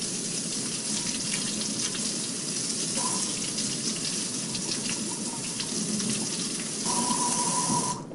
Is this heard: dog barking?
no